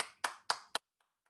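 At a church prayer meeting, three sharp, evenly spaced hand claps ring out close to the microphone, then a couple of faint taps follow in near silence.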